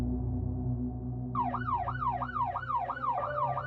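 A police car siren wails in a steady rising-and-falling pattern that starts about a second in and keeps cycling, fairly loud over a low continuous hum, with no talking.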